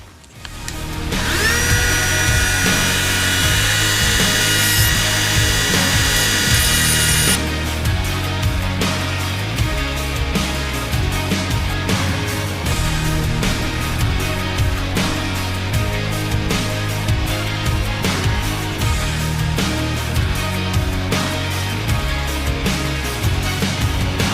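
A rotary grinder bit cuts metal from the two-stroke intake port of a Honda Odyssey FL250, a loud continuous high whine that stays steady with shifting grinding scrapes as the bit works the material.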